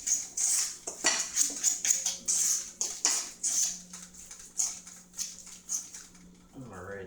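Corn fritter batter with added cornmeal being mixed in a bowl, giving rapid, rhythmic clinks and scrapes of a utensil close up before a brief pause.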